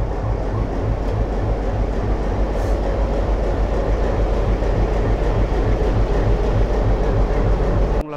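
The Mongla commuter train, hauled by a BED 30 locomotive, runs with a loud, continuous rumble and a steady rhythmic low thump from the wheels, heard from inside the train.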